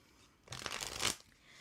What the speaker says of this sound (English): This is my last shuffle for you, Deirdre.